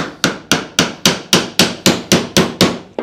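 A hammer drives thin nails to fix a wooden guide strip, heard as about eleven loud, sharp, evenly spaced close blows at roughly four per second, each ringing briefly before the next.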